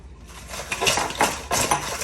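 Lemon pepper chicken wings are tossed in a bowl, producing a few quick rattling clatters and scrapes against the dish, close and fairly loud, with no talking.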